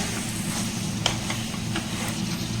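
Chicken curry stirred in a pan, a steady close sizzle of frying with a few faint scraping strokes of the spoon against the pan, and no talking.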